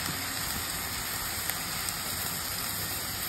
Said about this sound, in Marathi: बाहेर पाऊस पडतो